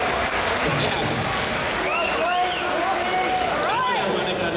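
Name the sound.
audience clapping at Dota 2 esports event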